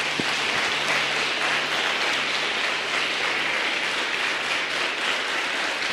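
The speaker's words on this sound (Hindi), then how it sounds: "चलिए आइए हम यीशु के लिए ताली बजाएंगे।" Church congregation clapping for Jesus, dense sustained applause from many hands, loud and even throughout.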